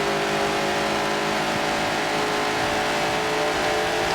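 A Lotus race car on its last lap in Forza Motorsport 7 on the Dubai circuit, its engine droning loudly and steadily at high revs close by, without talk.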